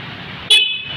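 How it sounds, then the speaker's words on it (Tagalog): A single short, loud honk from the horn of a Motorstar Easyride 150CL scooter sounds near, following a low idle-like background hum. "ito po yung kanyang busina."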